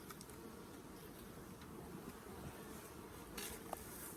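Honey bees buzz around an open hive during a queen cell harvest, a faint, steady drone close by with a few light ticks, no talking.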